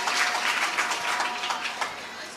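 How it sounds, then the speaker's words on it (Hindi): Applause from an audience at a Jain religious question-and-answer gathering with Sudha Sagar Ji Maharaj, dense steady clapping throughout at moderate loudness, a faint tone running beneath. "जोरदार तालियां सभी लोग बजा दें।"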